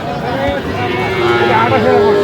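Young bulls and heifer calves at a cattle market in Dhaka give a loud, drawn-out moo close by, with a busy murmur of people talking in the background.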